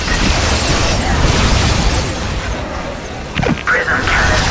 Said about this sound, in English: Prism cannons fully charged.